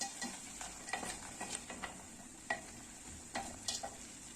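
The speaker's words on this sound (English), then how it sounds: "Then I'm going to stir." Goat meat frying in a pot over medium to high heat is stirred, giving a steady quiet sizzle and intermittent scraping taps of the spoon against the pot.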